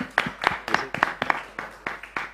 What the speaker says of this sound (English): Let's give Velimir one more round of applause for the awesome talk.